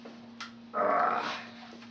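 A dog gives a low, close growl that swells for about a second, with a brief softer grumble before it, in a quiet room with a steady electrical hum in the background.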